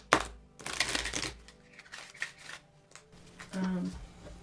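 Rapid papery riffling of oracle cards in short bursts, close by, with a soft voice murmuring between the shuffles.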